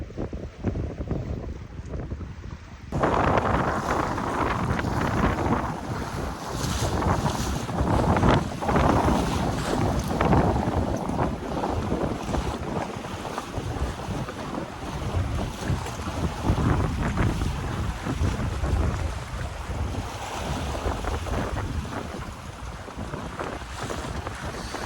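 A 16ft O'day Ospray Daysailer crosses a rough lake in strong wind, with loud steady wind buffeting the microphone and waves sloshing and slapping against the hull throughout.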